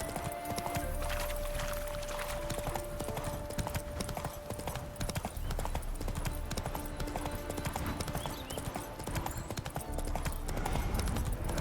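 Steady clip-clop of a horse's hooves in The Witcher 3: Hearts of Stone, a continuous rhythmic trotting heard close over a soft ambient game background, with no talk.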